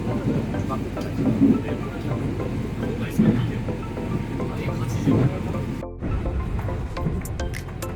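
Train ride in Osaka, Japan: a steady low rumble of the railcar rolls on throughout, with people talking nearby over it and a brief dip near the end.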